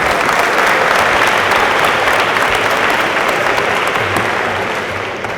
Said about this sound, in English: let's give him a round of applause as he comes